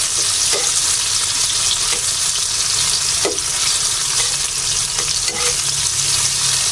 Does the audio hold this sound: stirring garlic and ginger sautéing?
yes